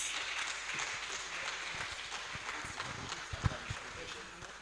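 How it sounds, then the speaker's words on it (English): Faint, steady applause from a convocation ceremony audience, a soft hiss of many hands clapping at a distance, with a few sharper slaps standing out near the end. "You can applaud him to his seat"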